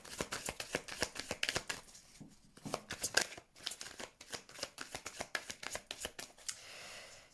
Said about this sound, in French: on va couper le jeu